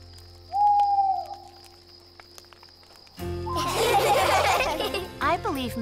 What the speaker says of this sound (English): I believe Mrs. Owl said, "Hoo, hoo, hoo, time to go into the tent and get ready to sleep